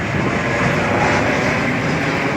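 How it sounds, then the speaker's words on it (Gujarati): An airplane passes overhead above a street near Narmada University gate and a sari market in Surat, a loud, steady low engine roar that holds evenly throughout. "વિમાન પણ ઉપર જોઈ શકો છો."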